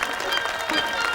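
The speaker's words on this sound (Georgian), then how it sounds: "აპლოდისმენტები" Audience applause at a football skills show makes a brief, busy patter of hands, with voices mixed in underneath.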